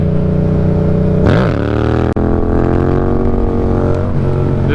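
A motorcycle engine revs hard and climbs in pitch during a clutch-up, loud and close, with a brief dropout midway before the strong harmonic roar continues steadily.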